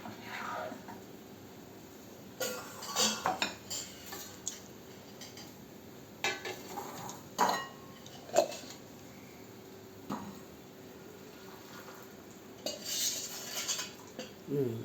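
Sweet potato badusha syrup being moved into a bowl, with quiet metal spoon clinks and scrapes against dishes in scattered bursts over a low background hum.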